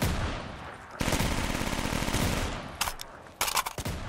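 An MG42 machine gun in Call of Duty Black Ops 3 Zombies fires a loud, dense sustained burst, then cuts off, followed by several shorter bursts of rapid shots.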